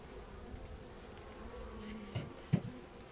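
Steady low insect buzzing from honeybees around a hive fills the scene, with a couple of louder close passes near the end.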